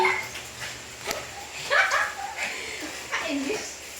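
A small dog yips and barks a few times, whimpering between barks, while people talk over it nearby.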